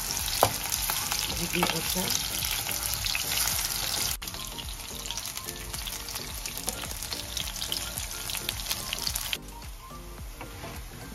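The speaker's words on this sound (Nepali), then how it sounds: "अघि म्यारिनेट गरेको निटोरालाई मैले फ्राई गर्दैछु।" Marinated Nutrela soya chunks frying in hot oil, a loud continuous close sizzle with occasional stirring and tapping, dropping slightly in level twice.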